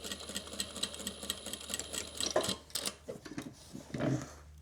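A sewing machine runs a top stitch along the upper edge of a tote bag, a steady mechanical whirr with a fast needle patter and a few light clatters and bumps near the end.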